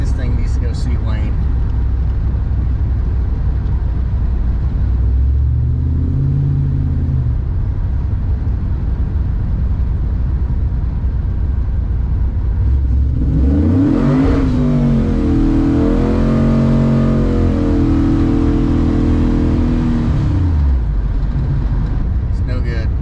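A truck engine on an OBS pickup with an LS swap and carburetor is revved twice during carb tuning, and the truck has a faulty transmission; the engine idles loudly, then climbs and falls, with a longer sustained rev the second time.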